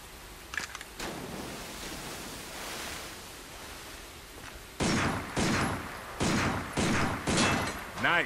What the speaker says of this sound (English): Take out your handgun and try shooting that sign.